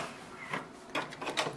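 The front door of a Canon Pixma TR4723 printer is opened with a quiet plastic click and a soft sliding scrape, followed by a few faint clacks close by.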